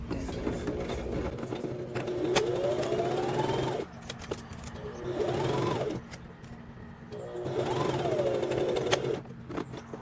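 A sewing machine runs a long stitch length in three separate bursts of steady whirring, each a few seconds long with short pauses between, sewing a pajama set.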